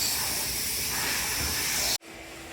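An air tool blasts a loud, steady hiss of compressed air to clear old windshield adhesive from a 2004 Mustang, then cuts off abruptly near the end.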